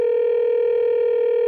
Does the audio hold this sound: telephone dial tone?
yes